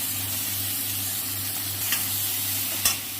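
Ginger-cumin paste and chopped tomato hit hot oil in a pan, hissing in a loud, steady sizzle close up, with a couple of brief stirring scrapes toward the end.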